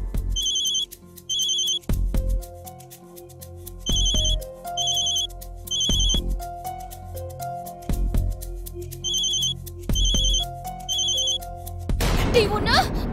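A telephone rings unanswered in repeated bursts of bright electronic trills separated by short gaps, loud and near, over a background music bed.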